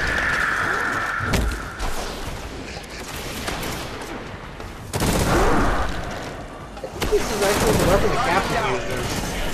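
Gunfire in the Destiny video game comes in several loud bursts of rapid shots, separated by quieter stretches of ambient game noise.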